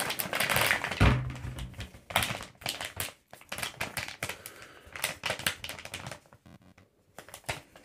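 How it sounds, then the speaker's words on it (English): A cardboard Amazon.com shipping package holding USB cables is torn and opened up close, making a dense run of sharp crackles, rips and tapping thuds in irregular bursts with brief pauses, and no one talking. "So let's open that package"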